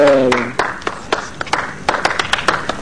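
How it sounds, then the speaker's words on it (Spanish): Hand claps ring out in a lively, irregular burst at a live outdoor spring-day event, fairly close and punchy, following a short sung or spoken voice at the start. "Un aplauso, muchachos"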